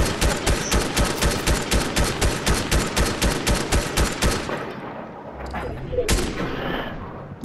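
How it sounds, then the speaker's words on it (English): Rapid automatic gunfire in Fortnite, a loud, evenly spaced burst of close shots rattling for several seconds, then stopping, followed by a couple of isolated shots and faint game sounds. "somebody shot me, bastard"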